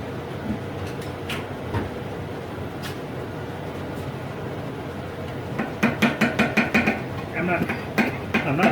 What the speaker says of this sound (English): I'm going to take a screwdriver and I'm going to kind of tap on the end of it and try to loosen up some of that rust.